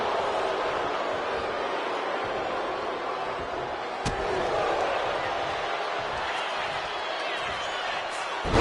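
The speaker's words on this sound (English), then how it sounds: "Choke slam! Landed." A chokeslam lands in the WWE 2K25 wrestling video game as one sharp impact thud, partly buried under a steady roar of arena crowd noise with commentary running throughout.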